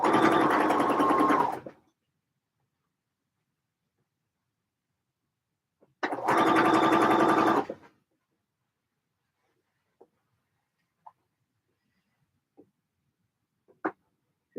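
Sewing machine stitching in two close, loud bursts of about two seconds each, separated by silence, followed by a few faint clicks and taps as the fabric is handled.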